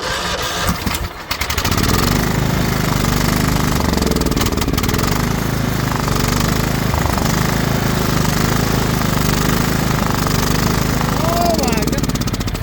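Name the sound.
Craftsman LT2000 lawn tractor engine running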